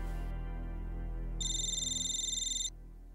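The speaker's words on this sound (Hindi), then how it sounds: "Phone, excuse me." A telephone ringtone rings loudly and close, a sustained electronic tone with a bright warbling burst in the middle, then cuts off abruptly at the end.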